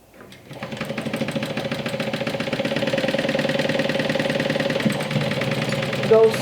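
A sewing machine stitches steadily through layered jacket lining and flap at a 1/2 inch seam allowance, a close, continuous mechanical whir that runs evenly throughout.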